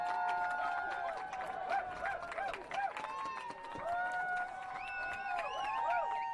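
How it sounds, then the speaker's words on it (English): Crowd at a girls high school soccer game cheering for the Leo Lions, a busy wash of voices and shouts with sharp whistle-like tones over it, continuous and fairly near. "As you hear the crowd cheer on their Lions"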